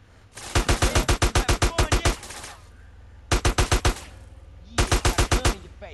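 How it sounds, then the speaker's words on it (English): Automatic rifle fire in GTA San Andreas: Definitive Edition, three rapid bursts of loud close shots, the first long, then a short burst and another, with quiet gaps between. "Who the fuck is shooting at me?"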